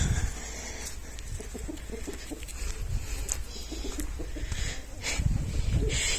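Chickens clucking in a backyard coop next to a vegetable garden, with soft intermittent clucks and chirps over a steady low background noise and no talk.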